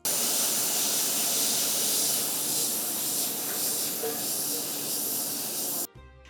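A pressure cooker cooking an Arabic rice dish with meat and spices at Kumkum restaurant in Kakkanad lets out a loud, continuous steam hiss that holds steady for several seconds, then cuts off abruptly.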